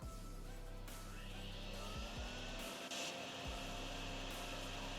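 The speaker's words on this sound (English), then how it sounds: "We do a quick vacuum job right here" Vacuum cleaning a drain at a roadside convenience store lot in the video game DrainSim: a steady, loud whooshing machine drone runs throughout, with a low motor hum that briefly dips and restarts a few times.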